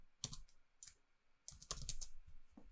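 Someone types a short word on a computer keyboard, a quick burst of several crisp, close key clicks in an irregular rhythm, with brief pauses between groups of keystrokes.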